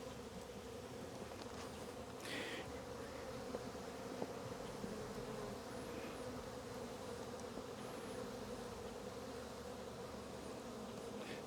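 Honey bees from a strong hive buzz steadily throughout an early-spring hive inspection, a dense, continuous drone close by with no talk over it.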